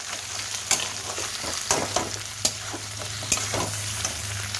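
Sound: frying with tomato, chili and spices being stirred

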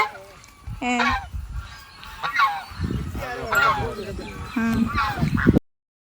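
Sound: geese honking in the water

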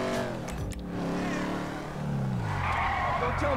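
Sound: Pontiac Firebird-style muscle car driving in video game GTA 5

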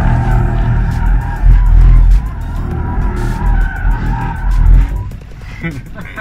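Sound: Ford Mustang Mach-E driving hard, tires pushing over front wheels

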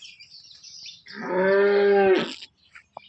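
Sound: HF cow at a cattle market

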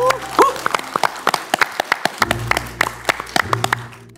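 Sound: audience applause

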